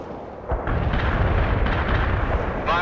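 Artillery fire mission in the World in Conflict strategy game: a loud rumbling barrage of heavy shell impacts and explosions that swells after a brief quieter start and keeps booming to the end.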